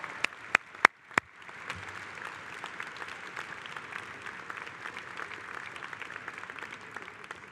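A convention hall audience at a union convention breaks into sustained applause, starting with a few sharp separate claps and swelling into steady clapping from a large crowd, heard at a distance.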